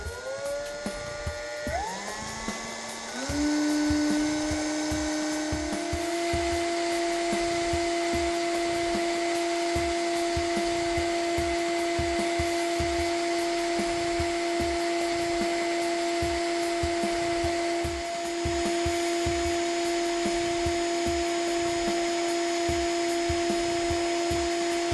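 A cordless drill spins up and holds a steady, high whine while its chuck twists wire looped through a fishing swivel into a Clapton coil; the motor runs continuously at close range with a faint scraping texture underneath.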